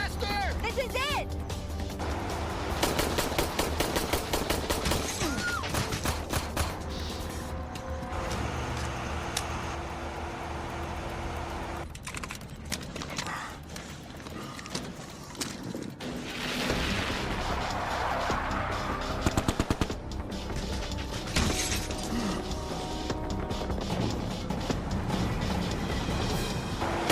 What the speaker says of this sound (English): It's the same sequence of shooting.